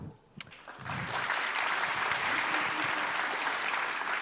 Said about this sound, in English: If you would help me give a round of applause to Amelie Karan,